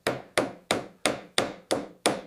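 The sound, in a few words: hammer tapping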